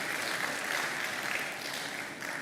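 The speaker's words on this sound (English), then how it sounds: "I think you deserve a round of applause for being here." An audience at the Africa Retail Congress applauds, a steady, moderately loud wash of many hands clapping that holds through the short stretch without speech.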